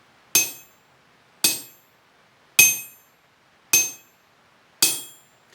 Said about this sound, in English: you drop your ball bearing from 10 inches and it bounces back up 8